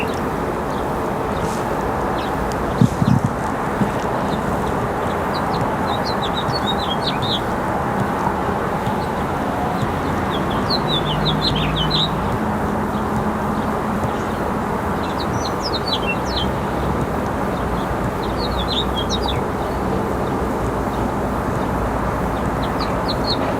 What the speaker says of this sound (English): if you guys like the calming sounds of the birds, you got one